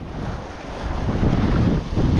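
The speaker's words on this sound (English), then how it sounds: "Well, I hope you can hear me because it's so windy." Strong wind buffets a microphone outdoors on the coast during autumn bass lure fishing, a loud continuous low rumble that grows heavier after the first second and never lets up.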